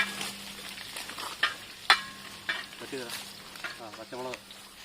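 Ginger and garlic frying in a pan: a soft sizzle under scattered clicks and scrapes of stirring, with brief bits of voice toward the end.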